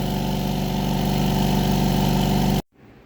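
Four SGCB air compressor motors run together in a steady, loud mechanical drone with a regular pulsing hum, then cut off abruptly, leaving near silence.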